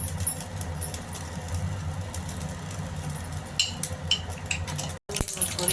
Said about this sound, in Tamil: பொரிக்கிறப்ப ஒரே ஒரு வரமிளகாய் 2ஆக பிச்சு போட்டு கருவேப்பிலை போட்டுருக்கேன்.